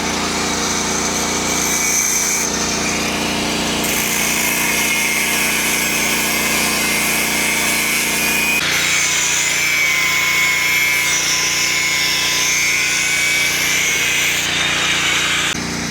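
A generator-powered angle grinder cutting steel for a stainless sliding gate railing, running as a loud, continuous high whine with shifts in pitch as the blade bites, close by and drowning out everything else.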